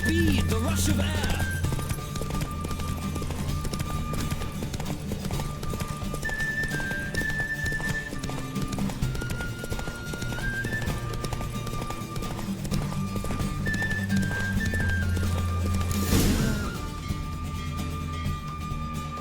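Steady clip-clop of a galloping horse in The Witcher 3: Wild Hunt runs throughout alongside music, with a brief whinny near the end and occasional speech.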